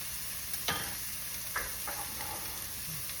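Bacon fries in a pan with a steady sizzle while a utensil stirs it, giving a few scraping strokes over the constant crackle.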